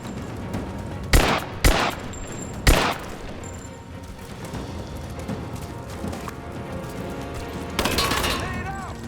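Several sharp, loud gunshots crack out close together in a Rise of the Tomb Raider firefight, followed by steady battle noise and another burst of fire near the end, with voices shouting under the shooting.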